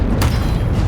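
A spell being cast in the video game Hogwarts Legacy lands as a single loud, deep boom-like burst near the start, followed by rumbling low-end game noise with no talking.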